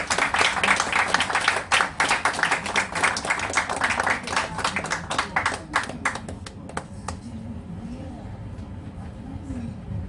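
An audience applauds at a live music memorial gathering at The Turning Point, with sustained dense clapping that fades into crowd murmur and a low hum after about seven seconds.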